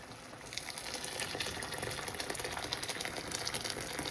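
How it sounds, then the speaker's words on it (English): Water or broth poured into a pan of pasta: a soft, continuous splashing and burbling of liquid filling the pan, fairly quiet and steady for several seconds. "Now I'm gonna add some more liquid to this."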